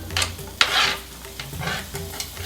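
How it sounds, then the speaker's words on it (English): Chopped onions sauté in about a tablespoon of hot oil for a saag tofu dish, giving a soft sizzle broken by scraping stirs and a sharp clack of a utensil, close and moderately loud. "we're going to add the onions first and let them saute a bit"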